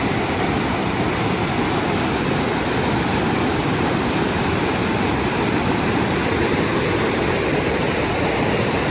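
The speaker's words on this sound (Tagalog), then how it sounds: "Ang laki ng nilalim, tsaka lakas ng agos," Strong river current rushing beneath a hanging bridge, a loud, dense, unbroken roar of flowing water filling the whole stretch with no voices.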